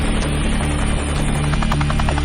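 A Navy Seahawk helicopter over the sea, its loud, steady rotor thrum and engine drone filling the whole stretch without a break.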